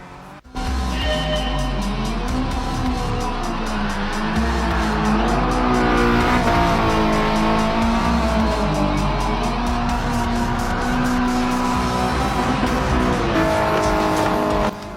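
A manual rear-wheel-drive car drifting with traction control off, its engine revving hard and tires squealing in long, sustained wails that rise and fall through the slide.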